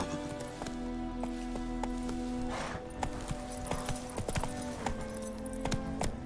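Horse hooves gallop in The Witcher 3 video game as a fast, steady clatter of sharp hoof strikes over a constant low background, fairly close and moderately loud.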